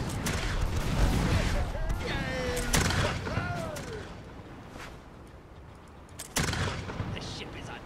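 Ship cannons firing a starboard broadside in the naval game Blackwake, heavy booming blasts with rumbling tails, one early, another near three seconds and a loud late shot, with people talking over them.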